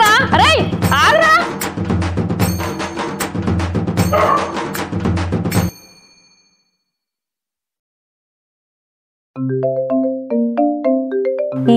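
A mobile phone rings with an incoming call, its bright melodic tone playing loudly over music at first, then going silent for a few seconds before resuming as a clear repeating chime alone.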